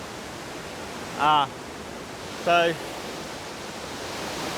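Steady broadband rush of Elabana Falls, a waterfall pouring over boulders, constant and moderately distant, with a man's brief spoken words twice over it.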